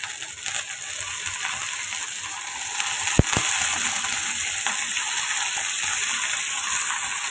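Cut pumpkin pieces sautéing in a hot pan, a steady broad sizzle and hiss throughout with one sharp clatter of a utensil partway through.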